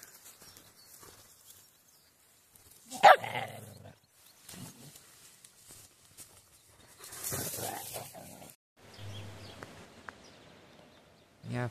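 Dogs outdoors in a rural mountain village setting give a few scattered barks and yelps between quiet gaps, moderately close, with faint outdoor background noise.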